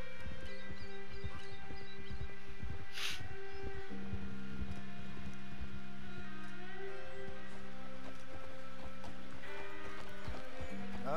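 A small horse's hooves clip-clop at a steady walking rhythm in the video game Red Dead Redemption 2, over a constant low hum of game ambience. No speech.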